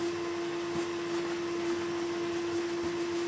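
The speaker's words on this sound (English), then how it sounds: "or just go with the hoover" A hoover vacuum cleaning out a Franco Belge wood burner gives a steady, loud whine with a constant tonal hum, the drone holding evenly at close range with no talk.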